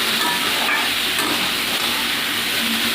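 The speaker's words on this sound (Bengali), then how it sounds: "উচ্ছেটা আমি হালকা করে ভেজে নেব" Bitter gourd fries lightly in a pan with a constant, close hiss and sizzle that stays even from start to finish, with no talking.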